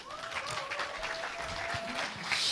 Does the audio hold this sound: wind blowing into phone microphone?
no